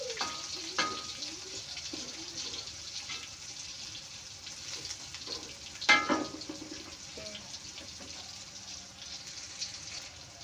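Food crackles and sizzles steadily in a frying pan in a home kitchen, a soft continuous hiss with occasional clinks and stirring knocks, fairly quiet and without talking.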